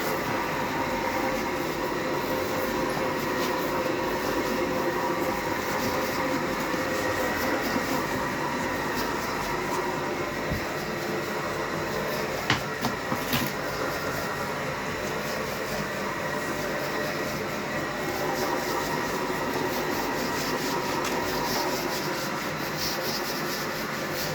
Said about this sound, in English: you can hear the noise of the sugar being crushed against the sides